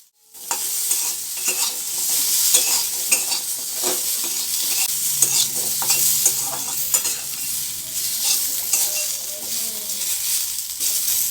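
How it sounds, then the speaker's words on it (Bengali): Potatoes and carrots frying in a pan while being stirred, a steady close sizzle broken by repeated scraping strokes of the spoon, with no talking. "আলুটা কিছুক্ষণ ভালো করে ভেজে নেওয়ার পর ওতে গাজরটা দিলাম।"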